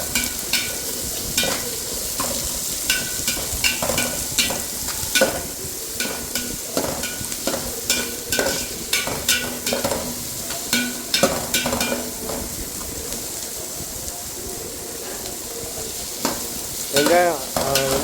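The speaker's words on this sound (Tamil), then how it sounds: "இதுக்கு தேவையான வெங்காயம் 4 வெங்காயம் கட் பண்ணி நம்ம வச்சுருக்கோம். அழகாக பொன் வருவால அப்படியே வறுக்கவும்." Four cut onions fry in oil for biryani, a steady sizzle under repeated scraping and clinking of a stirring spoon against the pan, close and continuous, with no one talking.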